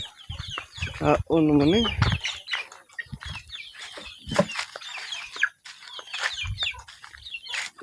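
Chickens cluck and squawk close by, with a burst of wing flapping, while a person talks over the flock.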